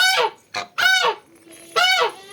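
A goose honks loudly three times at close range, harsh nasal calls separated by short pauses with a faint softer call between them.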